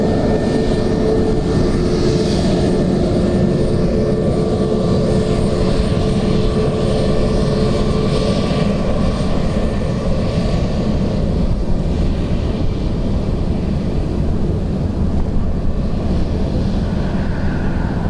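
An Emirates airliner arriving from Dubai at Dublin Airport roars steadily and loudly for the whole stretch, a broad, sustained engine rumble with a faint high whine and no voices.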